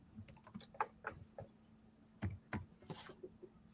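Keys clatter on a computer keyboard in quick irregular bursts of soft clicks and taps, close and quiet, with no talk.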